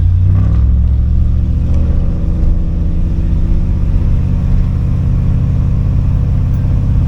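A 1991 Chevy G20 van with a solid axle swap, LS engine, 4L80E transmission and 33-inch tires cruises at about 20 mph, its steady low engine rumble and road drone continuous and loud throughout.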